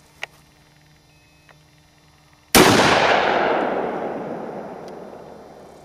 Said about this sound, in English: Mossberg 12 gauge pump. We'll see how this one fares with the recoil